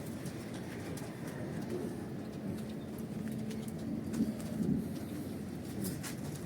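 Pigeons coo softly in low, rolling phrases under a constant background rush, with a few faint clicks and flutters around them and no talking.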